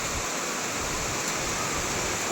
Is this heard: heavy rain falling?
yes